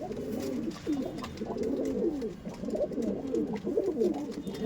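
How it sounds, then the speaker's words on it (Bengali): Andhra pigeons coo continuously nearby in soft, throaty, rolling calls, several birds overlapping against a steady low background hum. "আমার কাছে আন্ধ্রা পায়রা আছে"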